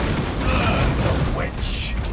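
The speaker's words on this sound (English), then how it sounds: "Reloading." A tactical auto bolt rifle is reloaded in a first-person shooter game, giving a short run of mechanical clicks and metallic clacks against game ambience and a voice line.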